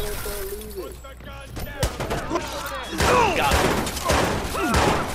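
Gunfire in the Watch Dogs video game, with rapid shots, impacts and crashes mixed into frantic chase action, while a player talks over the game sound.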